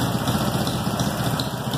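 A modified 248cc motorcycle engine bored from 70mm to 74mm, running on gasoline with a Twister carburetor and 10:1 compression, idles steadily up close with a continuous buzzing drone and no one speaking.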